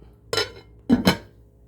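A lid set onto a pot of salsa chicken, heard as a soft clink followed by two quick, close metallic knocks as it settles, with no talking.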